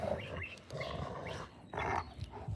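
A female Rottweiler vocalizes in a few short, gruff growling bursts close by, broken by brief pauses across a couple of seconds.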